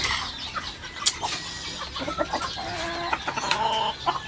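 Chickens and chicks feeding at breakfast time on a backyard farm, clucking and peeping in overlapping bursts throughout at close range, with no one speaking.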